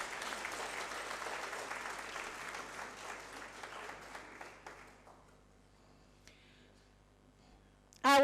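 Sustained applause from a seminar audience at a land surveying division annual meeting. The clapping holds steady for about five seconds, then thins out and fades to near silence, with a brief clack at the very end.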